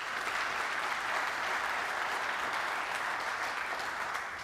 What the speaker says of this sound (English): I want to give them a round of applause as well